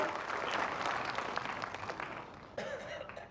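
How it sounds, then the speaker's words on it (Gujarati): Audience applause at a Vadodara public ceremony for development works, sustained dense clapping from a crowd, steady then easing slightly before a brief louder swell near the end. "આપ સૌ માટે એક વખત જોરદાર તાળીઓ થઈ જાય"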